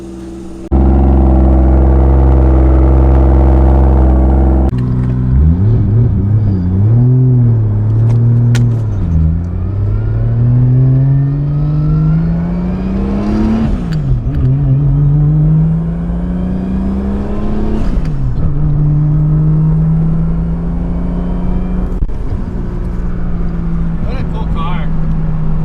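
A 2JZ-swapped Ford Mustang idles with a deep rumble, then revs and pulls away, its engine note rising and falling through the gears as it drives, loud and close throughout.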